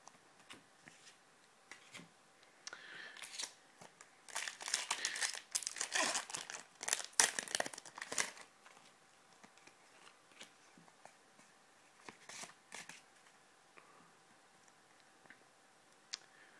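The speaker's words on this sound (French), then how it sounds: "Donc je la mets sous pochette sans attendre." A Pokémon card slid into a plastic sleeve makes soft, faint crinkling and rustling in scattered bursts, thickest in the middle of the stretch. There is no talk.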